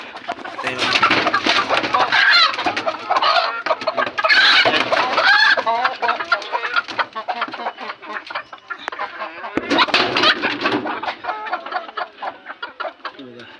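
Village desi hens and a fighter rooster cluck loudly and close in repeated bursts, with squawks and calls overlapping, while someone talks intermittently in the background.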